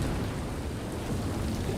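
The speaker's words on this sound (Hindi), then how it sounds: "बारिश हो रही है।" Cartoon rain pouring steadily with rumbling thunder, a dense, continuous roar of rainfall and low storm rumble throughout the short moment, with no talking.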